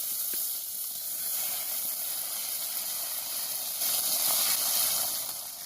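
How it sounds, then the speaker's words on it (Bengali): Small fish frying in a pan of hot oil, a steady broad hiss and sizzle running continuously and fairly loud, swelling slightly near the end, with no voices. "মাছগুলোকে এপিট ওপিট খুব ভালো করে ভেজে নেব।"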